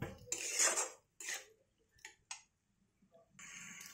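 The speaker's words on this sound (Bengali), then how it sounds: "ভেজে রাখা সেই সবজি আমি অ্যাড করে দিলাম। দিয়ে সমস্ত কিছু আবার নাড়িয়ে নিলাম" Fried mixed vegetables are stirred in a pan with a metal utensil, making quiet, intermittent scrapes and clinks in short bursts with brief pauses between them.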